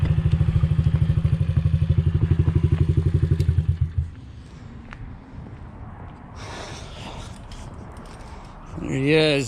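A WR 290 dirt bike engine revs hard in a loud, rapid pulsing drone for about four seconds, then cuts off. A quieter rumble and scattered noise follow, with a short swell at the end.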